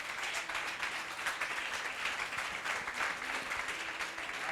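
A church congregation applauds steadily, many hands clapping together in a dense, continuous wash of sound that neither builds nor fades.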